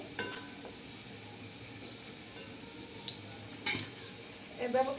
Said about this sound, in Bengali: আমি সবগুলো বন বেজে নিব